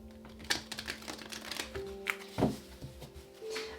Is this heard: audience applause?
no